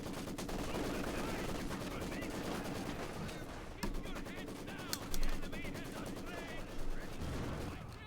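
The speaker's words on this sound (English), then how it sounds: "Mortal bombardment in the machine gun." Mortar bombardment and machine gun fire from the video game Company of Heroes 2 sound as rapid bursts and sharp blasts, fairly faint beneath a commentator's talk.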